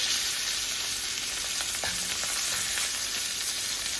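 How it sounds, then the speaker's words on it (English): Chicken pieces browning in a frying pan give a steady, close sizzle with scattered sharp pops of splattering fat. No one speaks. "They're starting to splatter a little bit"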